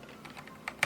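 Typing on a Keychron K6 Bluetooth mechanical keyboard with red switches, a handful of light, quick clacks in an uneven rhythm, close and fairly soft, ending in a sharper keystroke.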